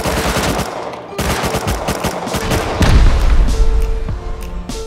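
Loud, close automatic gunfire in the video game Rust as players shoot at base walls, with rapid bursts hammering almost continuously, joined by heavier thuds and booming impacts.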